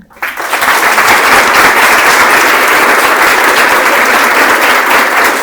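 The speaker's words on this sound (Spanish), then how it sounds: "les pido un fuerte aplauso" A large audience breaks into loud, sustained applause to welcome someone speaker at a forum on women's rights, swelling quickly and holding steady as a dense wash of clapping.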